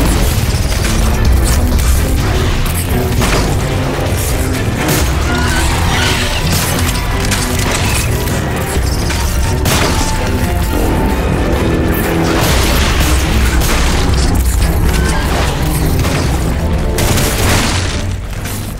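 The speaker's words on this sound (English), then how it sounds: "Some shooting there." Gunfire and explosions in Lost Planet 3 combat, a dense continuous barrage of booms and bursts with sharp hits scattered across the mix, loud and sustained.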